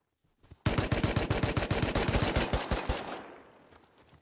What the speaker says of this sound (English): I double headshot him.